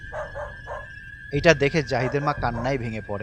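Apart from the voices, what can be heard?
several dogs barking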